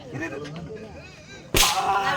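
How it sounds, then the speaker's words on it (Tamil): Indistinct voices murmur in the background during a Tamil stage drama performance, then a single sharp firecracker bang cracks loudly nearby. "வெடி வெடிக்கிறாங்க"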